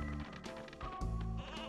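Sheep bleats from the N64 game Space Station Silicon Valley, several short synthetic bleats in quick succession, loud and close, over steady game music.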